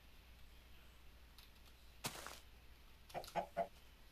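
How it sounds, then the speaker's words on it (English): Minecraft chicken clucking in a jungle area of the video game: a few short, soft clucks near the end, preceded by a brief rustling burst, over a quiet background. "So right now we're gonna move out into the jungle. I see a wild chicken."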